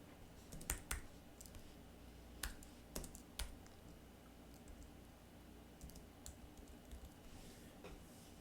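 Computer keyboard typing, quiet and fairly close, with irregular clusters of key clicks and a few sharper taps over a low steady room hum, no voices.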